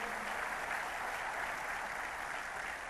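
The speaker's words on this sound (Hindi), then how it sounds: "जोरदार तालियां इन सबके लिए।" An audience at a National Sports Day event in India gives a steady, continuous round of applause, a dense wash of many clapping hands at moderate loudness throughout, with no talk over it.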